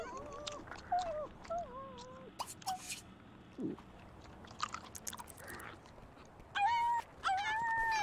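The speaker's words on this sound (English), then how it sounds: "What's wrong with the kitties?" Cats in The Sims 2 video game give short meows and mewling cries, scattered throughout alongside chewing and soft clicking game sounds, fairly quiet, with no speech.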